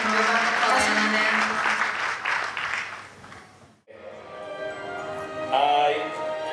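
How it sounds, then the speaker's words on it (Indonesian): Applause at a church Christmas celebration, a dense, loud round of clapping from the congregation that fades to a brief gap, followed by music with sustained tones rising again. "Boleh berikan tepuk tangan."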